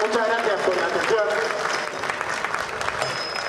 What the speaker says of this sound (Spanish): un aplauso a los dos, lo han hecho muy bien